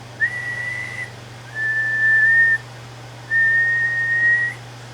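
Whistling into a Varmint XL-150 tube pre-amp during a level test: three sustained, steady whistled tones with short gaps between them, heard over a constant low hum.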